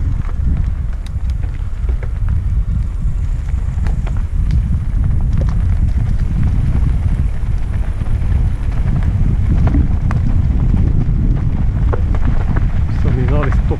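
A herd of about a hundred cows passes close by, their hooves thudding and trampling in a steady, dense rumble under heavy wind buffeting on the microphone.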